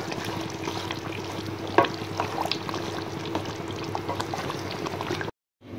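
Chicken fries in oil in a pot for biryani, a steady close sizzle and crackle running unbroken with a brief clatter near the start, then cutting off abruptly just before the end.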